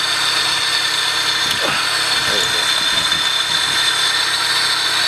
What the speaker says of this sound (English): As you can hear how loud the intake just...